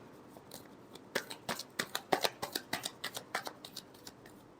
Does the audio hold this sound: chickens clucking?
no